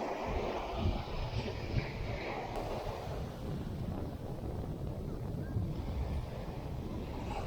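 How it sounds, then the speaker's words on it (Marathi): Strong wind buffets the microphone on a Vengurla shoreline during bait fishing, a steady broadband roar with gusty surges and surf-like wash continuing throughout, loud and close with no other clear sounds. "हवा थोडी कमी झाली पाहिजे होती. भयंकर हवा येते."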